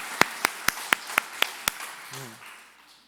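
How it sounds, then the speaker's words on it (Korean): A church congregation at Sunday worship claps in unison: seven crisp, evenly spaced claps in a steady rhythm, then a brief low murmur as the sound dies away into the room. "하나님께 영광의 박수 올려드립니다."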